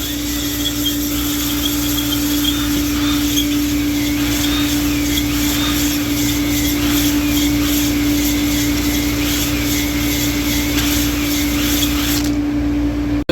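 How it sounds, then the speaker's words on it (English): An engine cylinder being honed with a rigid stone hone, a steady droning mechanical whir with a strong constant hum, running evenly throughout before cutting off abruptly at the end. "I'm gonna do that cylinder that I did the dingle ball hone in with the rigid stone."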